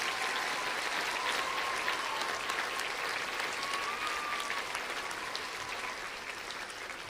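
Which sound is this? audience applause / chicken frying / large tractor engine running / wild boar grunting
audience applause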